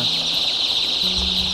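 Chicks cheeping in a warm, enclosed brooding room of a poultry farm in Nepal, a steady dense chorus of high calls, close and continuous, with a low hum underneath.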